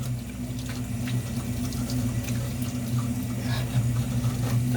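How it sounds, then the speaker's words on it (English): A kitchen tap runs water steadily and fairly loud while hands are washed during meal prep, with a constant low hum and no talk. "so wash your hands again"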